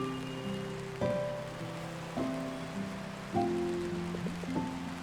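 Steady rain falls in the Until Then video game, a soft continuous patter beneath slow, ringing melodic tones that enter every second or so.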